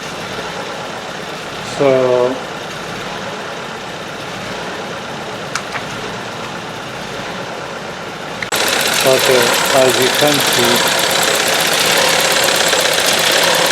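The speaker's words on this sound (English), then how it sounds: "the engine is idling and also shaking." A VW Golf Mk VII 1.4 TSI engine idles with an uneven, shaking rhythm, a steady mid-range hum that grows louder partway through, while someone talks over it briefly.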